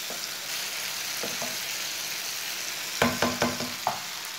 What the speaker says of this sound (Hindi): अदरक डाल के भी 1 मिनट तक भून लेंगे